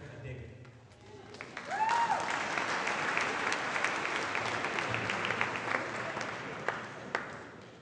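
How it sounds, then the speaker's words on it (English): Audience applause for a jazz ensemble performance, a steady wash of many hands clapping that swells after a couple of seconds and holds loud throughout, with scattered voices in the crowd. "clap your hands for this one"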